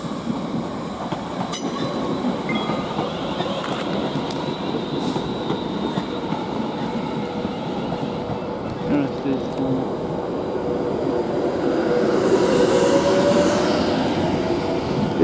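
An Avanti West Coast Class 390 electric train pulls out of London Euston bound for Liverpool Lime Street, a sustained rolling rumble with wheel squeal and a swelling roar toward the end, steady and fairly close.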